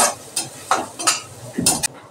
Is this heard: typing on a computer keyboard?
no